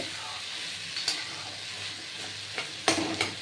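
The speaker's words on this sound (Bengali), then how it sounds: "ছোলা আছে, একটু এরকমভাবে খুন্তি দিয়ে একটু গালিয়ে দেবেন" A spatula mashes pumpkin and chickpeas in a pan for Bengali pumpkin chhakka, making soft squelching scrapes over a low sizzle, with several sharper knocks of the spatula against the pan near the end.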